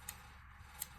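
Three quick, crisp snips of scissors cutting off the ends of a ribbon loop on an Easter junk-journal tag, spaced unevenly near the start and end, close and quiet in an otherwise hushed room.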